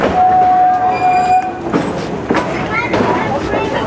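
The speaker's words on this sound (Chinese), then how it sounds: "我们坐在小火车上面。" A small amusement ride train running: rolling wheel clatter and rattling bursts, with a brief tonal whistle-like note early on and voices chattering nearby.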